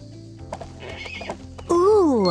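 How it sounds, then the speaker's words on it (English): A horse whinnies loudly near the end, a rising then wavering neigh, after soft clip-clop footsteps and light background sounds in the stables of Barbie Dreamhouse Adventures. "the horse wants even more care and attention."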